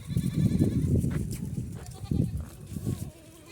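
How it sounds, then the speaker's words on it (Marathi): Dairy goats bleat close by in a few loud, wavering calls, one long cry followed by shorter ones, with no talking over them. "हे बघा दुधाच्या शेळ्या"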